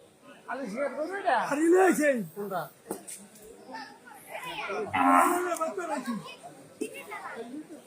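Cattle low and moo several times amid a busy outdoor crowd at a temporary cattle market in Kalma Bazar, with people talking close by.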